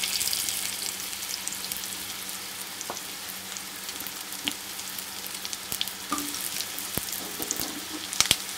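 Potatoes fry in hot oil with panch phoron, a soft steady sizzle and hiss with occasional clicks and scrapes of a utensil against the pan, fairly quiet and close.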